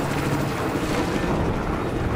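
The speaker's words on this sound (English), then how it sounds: "Guys, an enemy chopper." Enemy helicopter in Battlefield 4 on the Paracel Storm map, a steady loud rotor and engine roar filling the whole span with no break.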